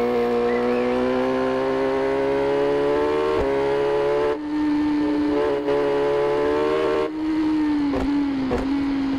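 A Yamaha YZF R6 supersport motorcycle engine holds a loud, close, steady high-revving drone that climbs slightly in pitch, with brief dips, and no one talks.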